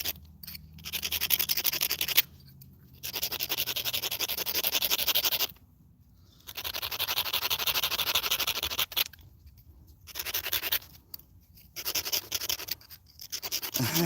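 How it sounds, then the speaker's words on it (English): Sharpening a bushcraft tool, with repeated raspy scraping strokes of a couple of seconds each, separated by short pauses, close and fairly loud with no talking. "I just gotta sharpen my my tool here."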